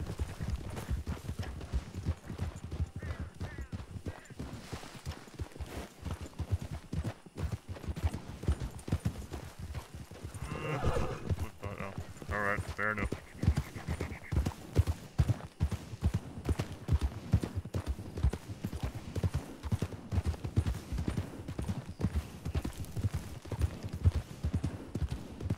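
Horse hooves clip-clop in a rapid, continuous rhythm in a western video game, several animals trotting together at a moderate distance, with a brief whinny partway through.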